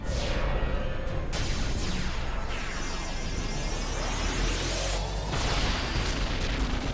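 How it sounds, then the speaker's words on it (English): Magic explosions in Final Fantasy X battle, dense booming blasts with sweeping whooshes layered over a constant loud rumble, several bursts in quick succession. "More magic explosions."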